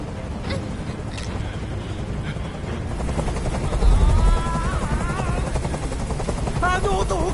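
A helicopter in the video game Detroit: Become Human hovers close overhead, its rotor throbbing in a steady, loud drone while tense voices talk over it.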